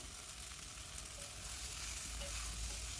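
Bottle gourd cooks with spices in a pan, giving a faint, even sizzle and a soft continuous stirring hiss with no voices.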